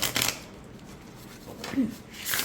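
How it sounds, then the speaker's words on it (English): A secondhand but like-new Lion's Gateway Tarot 3rd Edition deck with gilded edges is riffle shuffled. Brief papery bursts of riffling come at the start and the end, with a quieter stretch in between. "And I can get a pretty decent mix when I riffle shuffle."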